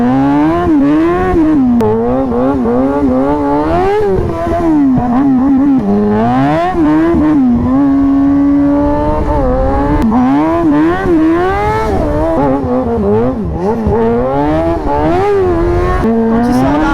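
A motorcycle drifting around a race circuit, its engine loud and close, revving up and down continuously with rising and falling pitch through the corners for the whole stretch.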